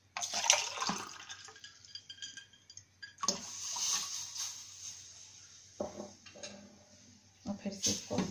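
Cold water splashes and pours into a pot of Kashmiri chai in uneven bursts, with light metallic clinks and a voice talking quietly in Hindi in between.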